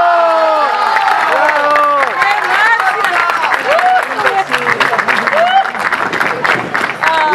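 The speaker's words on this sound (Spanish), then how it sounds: "se lo brindemos con un tremendo aplauso a la Marcia Oyarzú" A crowd at a political victory speech applauds and cheers for Marcia Oyarzú, loud close clapping mixed with whoops and excited voices, dense and continuous throughout.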